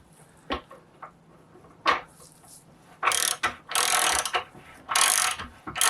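A ratcheting screwdriver winds a thread into an accumulator valve body for a Rolls-Royce Silver Shadow: a few sparse clicks first, then dense, close bursts of rapid ratchet clatter.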